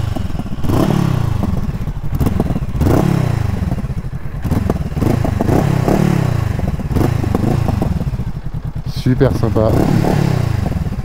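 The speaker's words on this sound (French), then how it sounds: "je vais vous faire écouter un peu ce que ça donne, ce petit silencieux X-Race à l'arrêt" A 2024 Honda CBR500R with an X-Race aftermarket silencer sits at a standstill, its twin engine idling and blipped in repeated throaty revs that rise and fall, close and loud, while someone speaks briefly.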